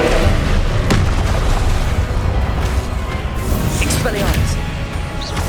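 Confringo fire-blast spell cast in the Hogwarts Legacy video game, heard as a loud booming burst in dense, continuous game action, with other spell blasts and a voice over it.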